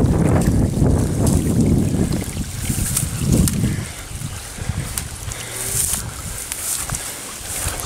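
Storm-prep runoff drains through a partly clogged drain, a gushing, broadband wash that is strongest at first and then thins into a softer trickle under gusty wind noise.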